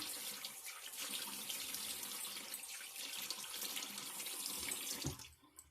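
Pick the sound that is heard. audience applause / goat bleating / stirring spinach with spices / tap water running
tap water running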